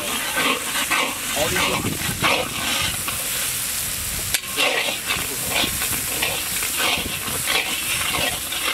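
Garlic and ginger paste sizzles in hot oil and is stirred while mutton sukka is cooked outdoors in a village. The frying hiss is continuous and close, with scraping stirs throughout and a brief spoken remark over it.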